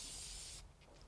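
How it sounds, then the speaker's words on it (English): Pro Spray aerosol can hissing onto sublimation transfer paper, a close steady spray lasting about half a second before cutting off abruptly, followed by faint quiet room tone. "now I'm going to have Pro Spray that's basically just going to fall from the air into the transfer"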